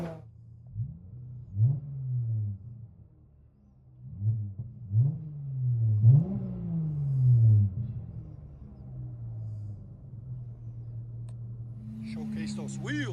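A 2012 Dodge Challenger V6 with dual exhaust and its rear resonator and mufflers deleted rumbles at a low idle close by, rising in a few sharp throttle blips before settling back to a steady drone.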